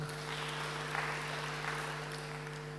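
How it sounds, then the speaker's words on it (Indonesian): A church congregation clapping in applause, a soft, diffuse patter of many hands spreading through the room over a steady low electrical hum, fairly faint and continuous. "Tepuk tangan dong buat Tuhan."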